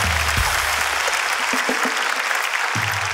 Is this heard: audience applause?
yes